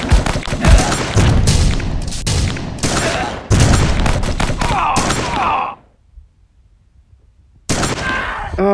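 Snipers trade fire in the mobile game Dead Ahead: Zombie Warfare: dense, loud rapid gunshot bursts and booms for several seconds, a near-silent pause, then the shooting resumes.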